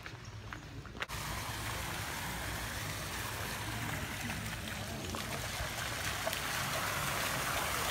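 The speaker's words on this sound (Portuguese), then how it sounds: "Meu Deus, gente, que cascata linda, maravilhosa!" A resort waterfall cascades in a continuous, even rush of falling water, moderately close, with a brief knock early on and no speech.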